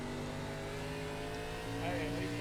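An ARCA race car in the iRacing game engine revs continuously, its rising whine steady and loud, with the throttle swelling slightly near the end.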